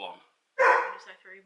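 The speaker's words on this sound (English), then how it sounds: "Apologies for the dog, he's only a puppy." A young puppy gives one loud, short yappy bark right after someone speaks, then a softer trailing yip as his voice continues.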